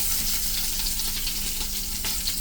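Ginger, garlic and curry leaves fry in about two spoons of hot ghee, a steady dense sizzle and crackle close to the pan, continuous with no pauses.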